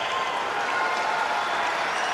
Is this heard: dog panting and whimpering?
no